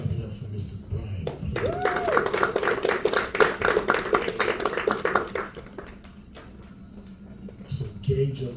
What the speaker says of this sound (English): Clap it up for Mr. Brian.